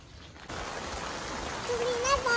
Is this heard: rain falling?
yes